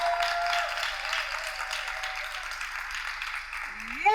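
An audience at a televised Ivorian reality show launch applauds a sponsor, an energy drink, with steady sustained clapping throughout, and a voice starts to rise at the very end.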